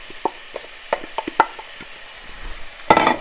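Onions added to caramelized sugar in a skillet, with scattered close taps and a burst of sizzling as they hit the hot pan near the end, no speech.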